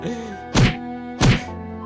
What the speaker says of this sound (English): With a loud thud, a sharp pain rushes through my skull.